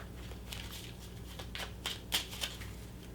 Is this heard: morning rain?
no